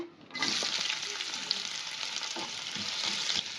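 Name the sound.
chopped onion frying in hot oil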